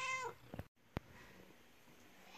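A single cat meows once, a short rising-and-falling cry at the start, followed by a couple of faint clicks and quiet room tone.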